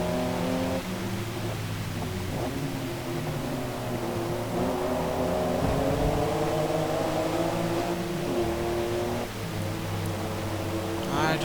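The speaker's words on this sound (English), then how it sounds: "it's just a car that I think is a little louder than normal" Loud car engine from the racing game Forza Motorsport, a steady droning roar with shifting revs that runs the whole time at close range, with faint speech mixed underneath.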